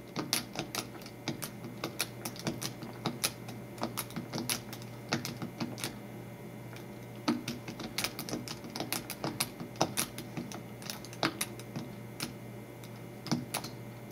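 Steady keyboard typing as an email account password is entered, irregular clicking keystrokes at close range over a low constant hum, with no talking.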